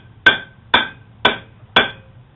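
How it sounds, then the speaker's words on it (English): A hammer strikes a freshly glued homemade wooden baseball bat, four sharp, loud whacks evenly spaced about half a second apart, each with a bright ringing attack that quickly dies away. "All you gotta do is just take a hammer and give it a good whack."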